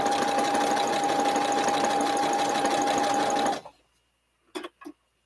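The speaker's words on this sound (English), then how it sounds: "start the sewing process." A sewing machine stitches chain-pieced tulip fabric in a loud, steady, close hum for about three and a half seconds, then stops. A few short handling clicks follow in near silence.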